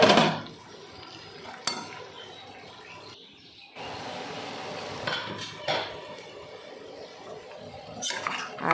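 A pot of jackfruit curry stirred after its lid comes off, with intermittent metallic clinks and scrapes of a spoon against the pot over a low sizzle. There are brief quiet gaps, and faint chirps sound in the background.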